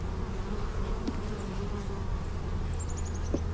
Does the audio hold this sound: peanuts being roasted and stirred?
no